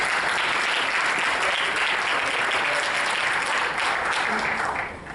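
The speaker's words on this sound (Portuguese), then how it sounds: "Salve de palmas, gente" Audience applause at a panel discussion on digital citizenship, a steady, dense wash of clapping from a sizeable crowd that holds loud and even before tapering slightly at the end.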